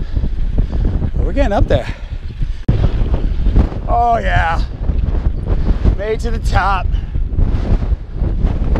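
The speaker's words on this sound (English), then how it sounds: "Super windy." Strong wind buffets the microphone on a hilltop during Caribbean mountain biking in Aruba, roaring continuously while a rider talks.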